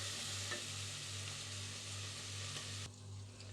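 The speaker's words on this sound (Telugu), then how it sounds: "ఇప్పుడు ఒకసారి అంతా ఫ్రై చేసుకుందాము" Spices with turmeric and asafoetida frying for moong dal khichdi, a soft close sizzle with light stirring over a steady low stove hum, fading slightly near the end.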